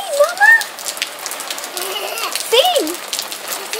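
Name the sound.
heavy rain falling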